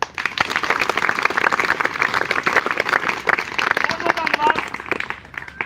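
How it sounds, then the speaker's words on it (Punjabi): Outdoor audience at a school street play on drugs and mobile phones, clapping in a dense, steady burst that fills the whole stretch, with voices mixed in. "ਸਾਂਝਾ ਤਾੜੀ ਮਾਰੋ"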